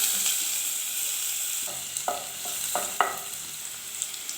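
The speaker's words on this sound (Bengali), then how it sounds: "তেলটা গরম হয়ে গেছে দিয়ে দিব পেঁয়াজ কুচি" Chopped onion dropped into hot oil for a bitter gourd and katla fish curry, a continuous bright sizzle with several sharp spatula scrapes and clicks in the second half.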